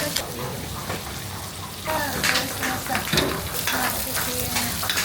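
Ingredients stir-fried in a pan at a Thai cooking class in Silom, with a steady loud sizzle and frying hiss, intensifying partway through, plus scraping stirs and faint talk in the background.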